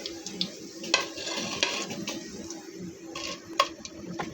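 Potato and onion pakoras in a cornflour batter, browned, crackle and sizzle steadily in hot oil, with scattered sharper pops and a few louder spits rising over a constant close-up frying hiss.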